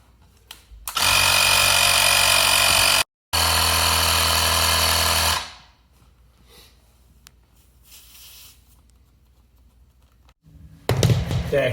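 An electric pump motor hums and buzzes loudly in two long bursts while inflating a Dualtron Spider electric scooter tire to 40 PSI, with a short pause between, then stops; a brief mechanical noise follows near the end.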